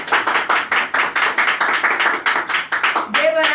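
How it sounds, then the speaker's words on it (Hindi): Rhythmic group clapping at a live gift-giving event, with evenly spaced claps beating in unison, close and fairly loud, before a voice begins speaking near the end. "जोरदार तालियां"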